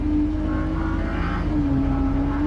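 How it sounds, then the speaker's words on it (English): A Ferrari Challenge race car braking and downshifting to third at Sonoma, a loud steady engine drone with a shifting tone, heard from onboard with no talk. "Here you want to brake at the 3 marker, downshift to third"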